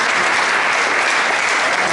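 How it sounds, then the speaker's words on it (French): Steady, dense applause from a church audience at a Saturday school service, loud and continuous throughout with no pauses. "Applaudissons pour les prédicateurs."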